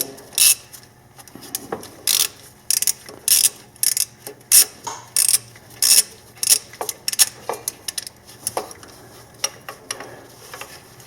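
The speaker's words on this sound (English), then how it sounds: "I just used a little extension on my little 1/4 inch socket ratchet here" A 1/4 inch socket ratchet on an extension clicks in repeated short bursts of ratcheting, about a dozen close, crisp strokes in an irregular rhythm, working on a 2003 Nissan Maxima water outlet pipe.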